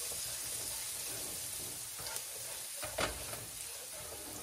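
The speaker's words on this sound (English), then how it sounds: "So now, quickly I'm going to stir this around, make sure it doesn't get too burnt or all in one place." Garlic sizzles steadily in a hot pan for a spaghetti al pomodoro sauce while a utensil stirs it around, with a few louder scraping strokes near the end; no one speaks.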